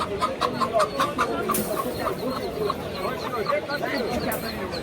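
Clucking chickens and peeping chicks at a busy rooster market in Kara Kamish, a continuous close chorus of short rhythmic calls mixed with background crowd chatter.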